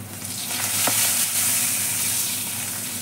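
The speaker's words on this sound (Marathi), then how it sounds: "अशाच मी मिरच्या तळून घेते त्या भाजीमध्ये" Green chillies fry in a pan of cabbage and carrot, producing a dense, continuous sizzle with a faint stirring scrape, close and steady for a few seconds without speech.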